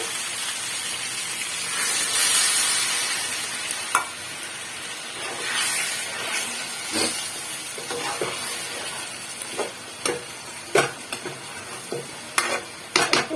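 Water is poured onto cooked meat and potatoes in a hot pan and flares into a loud hissing sizzle. The sizzle then settles into a steady bubble, broken by scraping, stirring clatters and sharp spatters toward the end. No one speaks.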